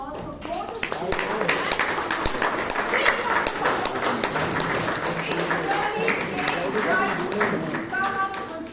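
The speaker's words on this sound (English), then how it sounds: "Can we have a round of applause for both of you?" At a Toastmasters meeting in Bangalore, an audience applauds, a dense burst of clapping that rises quickly and stays sustained for several seconds, with some chatter and speech mixed in.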